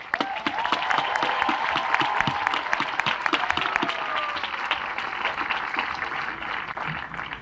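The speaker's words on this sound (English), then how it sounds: "I'd like to give the senior class advisors a round of applause, Ms. Gianna Venero and Ms. Stephanie Curtis." A room full of people at a high school graduation clapping steadily, a dense burst of applause that gradually thins toward the end.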